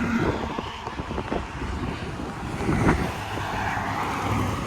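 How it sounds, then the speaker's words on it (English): Strong wind ahead of a squall line rushes and buffets the microphone in gusty, uneven roars, with a faint engine hum underneath. "Here we go. The wind's picking up."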